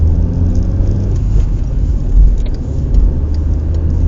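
Car with a manual gearbox accelerating after a simulated brake failure, a loud, steady engine rumble and whir close by that swells slightly partway through, with no talking.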